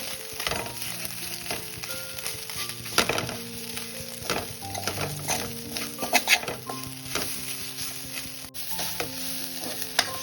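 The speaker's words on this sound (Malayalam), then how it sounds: "ചമ്മന്തി ഇട്ടതിന് ശേഷം വീണ്ടും നന്നായിട്ട് ഇളക്കി കൊടുക്കുക." Chicken and chammanthi are stirred in a frying pan, with a steady sizzle under frequent scraping and clinking of the spoon against the pan.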